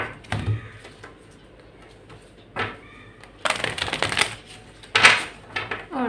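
Cards are shuffled in several quick, close riffling bursts separated by brief pauses, with light handling noises in between.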